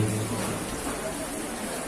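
Steady rain falls as a continuous, even hiss through the whole stretch at an evening religious gathering, with a voice speaking over it.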